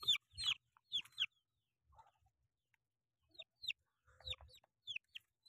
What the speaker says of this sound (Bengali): এগুলো সব দেশি মুরগি, এগুলো দেশি মুরগি।